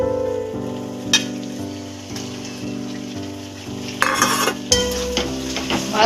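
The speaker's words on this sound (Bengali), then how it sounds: "এবার দেবো আলু ভাজা, আগে থেকে করা ছিল" A spoon stirs fried potatoes into chicken kosha curry in a hot pan, with rhythmic scraping strokes over a steady sizzle, close and clear with no voices.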